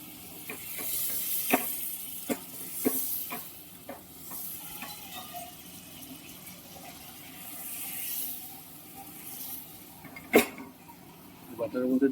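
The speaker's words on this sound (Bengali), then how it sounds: "এবার বাটার পুরো বাটারে মাশরুম আর আমাদের রসুনটাকে ফ্রাই করে দেবো" Mushrooms and garlic frying in butter in a pressure cooker used as a pan give a steady close sizzle, broken by repeated sharp scrapes and clinks of stirring, with faint voices in the background.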